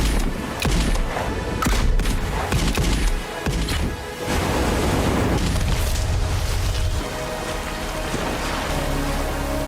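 Movie gunfire from a Blade Runner blaster revolver, several loud booming shots crashing over a dense, rain-like roar of film soundtrack, with no talk.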